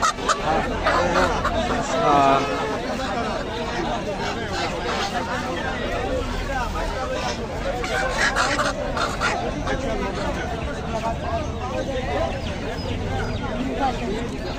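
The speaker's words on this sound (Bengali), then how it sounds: "এগুলা কি মুরগি? দেশি।" Local desi hens kept at a busy market, clucking and squawking amid crowd babble, with people talking nearby throughout.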